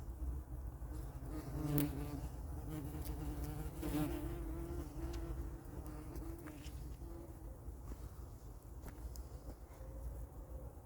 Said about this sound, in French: elles se calment tout de suite ces guêpes